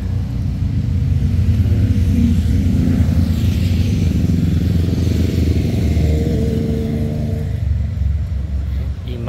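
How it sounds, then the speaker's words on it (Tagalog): Yamaha T-Max scooters of a riders club gathered for a breakfast ride in the Philippines, producing a loud, continuous low engine rumble and idling drone from several machines close by, with faint background chatter. "Ayan lahat yung mga motor."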